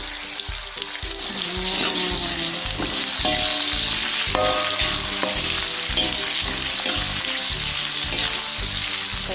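Washed rice frying in hot, foaming oil for Sundanese nasi liwet, a dense steady sizzle with crackles and occasional clinks of a utensil turning it, close and continuous with no talk.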